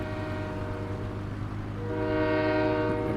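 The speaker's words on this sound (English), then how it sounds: "Train constantly stopped there sounding its horn." A train horn sounds continuously from a train stopped at a mining rail loading point in Farming Simulator 2017, a steady sustained blare over rumbling rail noise that grows slightly louder toward the end, with no talking.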